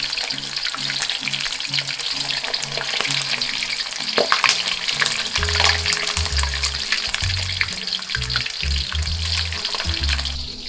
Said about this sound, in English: Next, we will fry the brinjal.